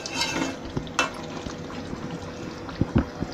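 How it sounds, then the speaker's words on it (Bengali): Native deshi chicken curry with potato being stirred in a pot, with a few soft scrapes and wet knocks of the spoon over a low steady simmering background, near and moderately quiet, no voices. "আমরা সিদ্ধ না হওয়া পর্যন্ত নেড়ে চেড়ে ঢেকে দিব"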